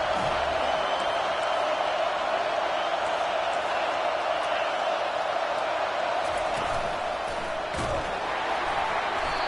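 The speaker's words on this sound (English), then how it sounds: "Decibels rising as the crowd gets behind this defense on 3rd down." A large football stadium crowd roars during a third-down defensive stand in a Hokies versus Seminoles game, a dense continuous wall of noise that stays loud throughout.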